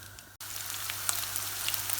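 Half a kilo of lamb meat sizzles and crackles with spices in a pot for a potato and lamb curry, a steady close frying hiss broken by a brief drop near the start.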